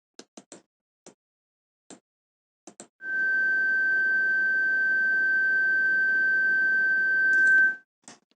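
A steady pure tone at about 1500 Hz, raised from 440 Hz, holds alone for nearly five seconds at a constant level. Short clicks come before and after it.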